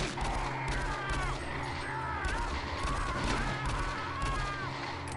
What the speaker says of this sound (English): Dudes be shooting at us.